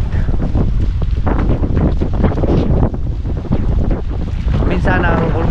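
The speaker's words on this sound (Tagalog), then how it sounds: "Ang sarap ng simoy ng hangin," Strong sea breeze buffeting the microphone aboard a small outrigger boat on choppy water, a steady loud rushing roar with waves sloshing underneath throughout.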